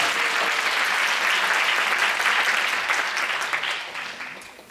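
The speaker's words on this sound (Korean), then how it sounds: "박수 한번." A congregation at a 2018 Korea–Israel joint revival gathering breaks into loud, sustained applause that holds steady for several seconds before thinning slightly toward the end, with no speech over it.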